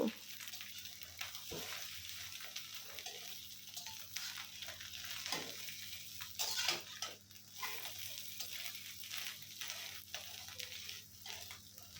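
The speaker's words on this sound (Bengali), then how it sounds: "উল্টিয়ে পাল্টিয়ে ভালো করে ভেজে নিচ্ছি" Egg frying in a pan and being turned repeatedly, with a continuous soft sizzle and occasional scrapes and stirring clatter from the utensil, fairly quiet and close.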